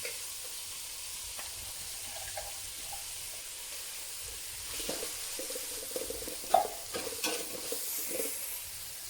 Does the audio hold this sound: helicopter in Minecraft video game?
no